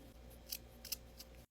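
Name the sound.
scissors cutting pipe cleaner ends to a point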